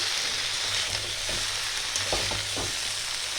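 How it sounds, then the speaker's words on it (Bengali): Shredded cabbage fries in a pan for a Bengali cabbage chorchori, giving a steady close sizzle broken by a few soft scraping stirs, with no voices. "এবার দিয়ে দেবো আমি বাঁধাকপি। বাঁধাকপিটা একটু ভালো করে নাড়তে হবে।"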